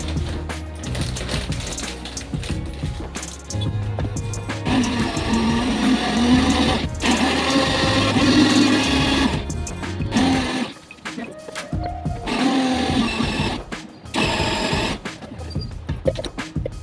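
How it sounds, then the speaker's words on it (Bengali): An electric kitchen grinder whirs in loud bursts while grinding sago and oats into powder, cutting in and out several times with short pauses between runs. "সাবু, ওটস ওগুলো কিনে নিয়ে এসেছিলাম, সেগুলোও দেখো এখানে গুঁড়ো করে মামের জন্য রেখে দেব"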